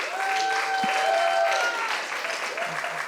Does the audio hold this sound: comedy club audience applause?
yes